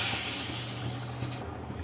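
Hot ginger tempering is poured into a pot of chana masala, giving a loud, continuous sizzling hiss that fades slightly toward the end of two seconds, with no talk.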